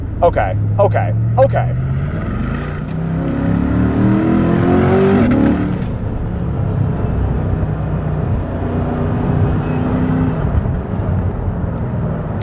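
Base-model Chevrolet C8 Corvette Stingray on all-season tires pushed hard through a corner, its engine note rising and swelling inside the cabin as someone talks over the steady, loud drone.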